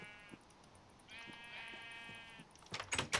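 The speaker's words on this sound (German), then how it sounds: "Schere die Schafe mit der Schere." Sheep in Minecraft bleat in two drawn-out, wavering calls while being sheared, followed by a few quick clicking and snipping sounds at the end, fairly quiet overall.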